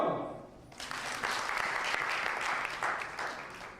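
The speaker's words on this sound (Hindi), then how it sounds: "तालियां मारो।" An audience claps together at a church convention, steady sustained applause that starts after a brief voice and holds at an even, moderately loud level, spread across a large room.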